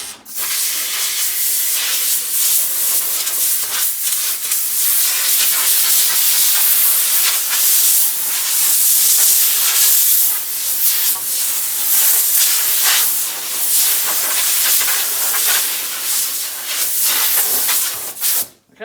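Compressed air blasts sawdust and fine dust out of the grain of a sanded wooden window architrave being prepped for paint, a loud, continuous hiss that surges and pulses for nearly twenty seconds without pause.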